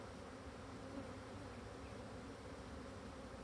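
A colony of agitated black honeybees buzzes in a dense, continuous drone, steady and close, with no voices over it.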